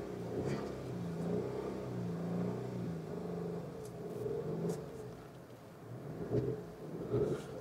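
Revs rise and fall a few times from idle on a 2025 Citroen C3 base model with its three-cylinder engine, a low, close rumble swelling and easing back, fairly quiet and without speech.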